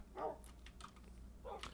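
Tamed dog in the video game Minecraft gives a few short, clipped barks at a moderate level, spaced apart with quiet gaps between them, and nobody is talking.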